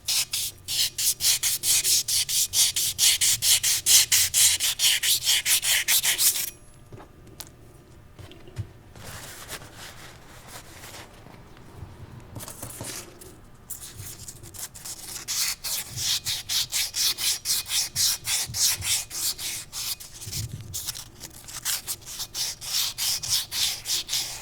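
Sandpaper rubbed by hand over the bearing surface of a Dana 44 pinion gear, a close, raspy scratching in quick strokes, with a brief quieter pause midway before the steady scrubbing resumes.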